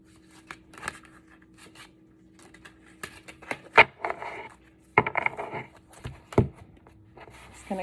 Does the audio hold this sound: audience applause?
no